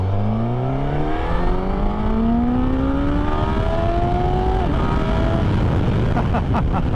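A 2022 Suzuki GSX-S1000GT+ sport-touring motorcycle accelerates hard on the road, its engine note rising steadily in pitch through the gear and then shifting up, loud and close with steady wind noise throughout.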